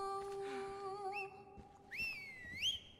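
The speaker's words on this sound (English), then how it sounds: "Please stop whistling." A character in Far Cry 5 whistles a slow tune: faint sustained tones, then rising and sliding notes over steady in-game ambience, with no speech.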